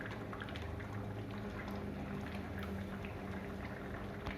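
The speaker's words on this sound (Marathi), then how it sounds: "या सांबारमध्ये मी तूप घालून घेते।" Ghee being added to a pot of sambar as it boils, heard as a soft, steady bubbling simmer at low level throughout, with no talk.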